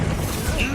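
A Confringo fire curse cast in the Hogwarts Legacy video game, heard as a short, loud, dense blast of crackling mechanical noise lasting under a second.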